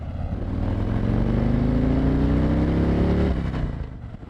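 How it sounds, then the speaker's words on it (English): A motorcycle ridden in Maryland accelerates hard, its engine note climbing steadily in pitch for about three seconds before easing off. The sound is loud and close, with no talking. "lean the bike, John. Give it some gas"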